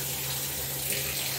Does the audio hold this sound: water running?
yes